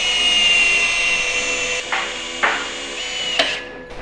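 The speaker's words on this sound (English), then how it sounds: "We're gonna drill a hole out for the airline." A power drill whines steadily and loud up close, then winds down into a few short bursts as it bites through, drilling an air line hole on a Dodge Dakota.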